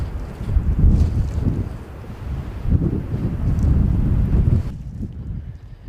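Strong gusting crosswind of around 20 knots at an airport, roaring and buffeting loudly across the microphone with rising and falling surges before cutting off abruptly near the end.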